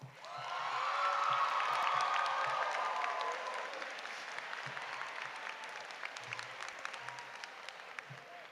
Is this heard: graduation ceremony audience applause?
yes